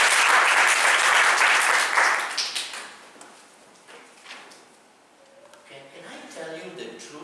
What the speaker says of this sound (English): Okay, can we clap for her?